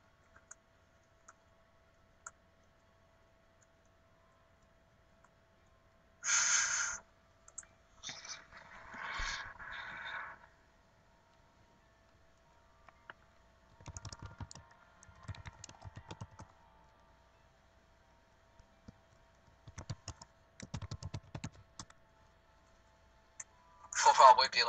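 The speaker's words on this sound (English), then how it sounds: "I can't type, okay." Computer keyboard typing in short bursts of close clicking keys separated by quiet pauses, with a person speaking intermittently in the background.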